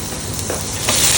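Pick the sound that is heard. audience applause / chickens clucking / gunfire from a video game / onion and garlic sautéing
onion and garlic sautéing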